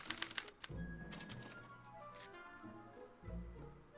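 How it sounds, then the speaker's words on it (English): A special typewriter in the Back to the Future video game prints out a punch card: a quick burst of sharp mechanical clicks, then humming tonal machine sounds that rise and settle over a few seconds. "they're relayed to this special typewriter, which prints out a punch card that represents the subject's mind map"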